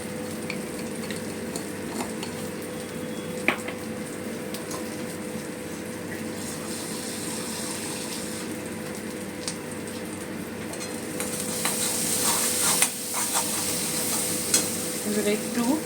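Cumin and coriander masala fries in a pan for a vegetarian aloo dum while a spoon scrapes and stirs it, a steady close sizzle that swells louder toward the end.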